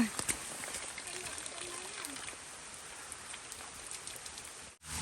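Heavy rain pours down in a steady hiss with scattered drops splattering nearby, continuous and fairly loud throughout, with a voice heard briefly near the start.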